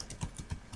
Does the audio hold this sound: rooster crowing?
no